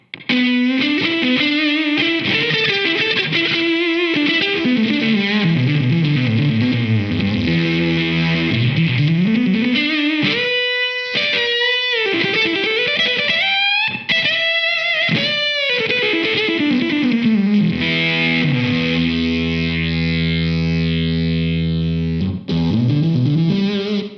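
Korg Nu:Tekt HD-S pedal set to a tinny, aggressive fuzz distortion, buzzy played notes and sliding bends with harsh overtones and gated cutoffs, loud and close for about twenty-four seconds without talk.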